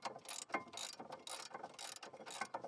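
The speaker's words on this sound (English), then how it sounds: "For these, a socket and a 1/2" drive ratchet are fine, no need for an extension." A 1/2 inch drive ratchet with a socket loosening 16mm caliper carrier bolts on a BMW 540i E39 wheel hub, giving rapid bursts of close metallic clicking repeated several times with short pauses between strokes.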